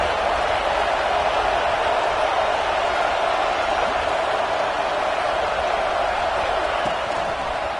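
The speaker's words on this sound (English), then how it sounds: "This crowd bringing the energy and noise early." A steady, dense roar of a large stadium crowd at a TCU vs Utah college football game, loud and continuous throughout with no breaks.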